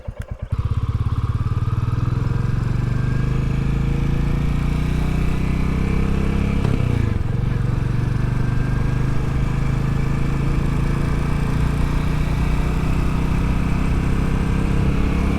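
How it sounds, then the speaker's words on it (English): A Royal Enfield Classic 350, a 350cc single-cylinder motorcycle, is riding with a steady, loud engine drone after a brief start, continuous and close with no talk. "The Classic 350 is your standard 350cc single cylinder"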